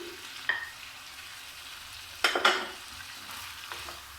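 Fried pointed gourd tipped into a pan with potato and chicken, sizzling low and steady while a spatula scrapes and clatters in short bursts, a sharp clash near the middle, no talk.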